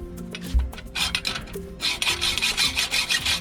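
A step bracket being sawn off for a dinghy motor lift, heard as a soft scrape at first and then a steady, rhythmic series of gritty back-and-forth strokes, close up with no voices.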